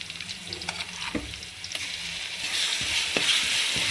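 Masala frying with browned onions in a pan for mushroom biryani, a continuous close sizzle broken by intermittent spatula scrapes and stirring clinks that grows a little brighter and hissier toward the end, with no voices.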